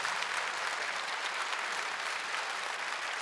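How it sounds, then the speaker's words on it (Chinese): Steady, dense audience applause fills a hall at a Yue opera competition final and awards ceremony as a Yue opera master judge is introduced, continuous and even throughout with no voices. "掌声。"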